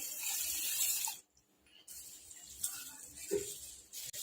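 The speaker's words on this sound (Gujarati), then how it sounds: "સરસ રીતે આપણે એને ધોઈ લેવાના છે ચોખાને" Running water splashes into a vessel close by, briefly stops, then resumes with gentle sloshing as rice grains are rinsed.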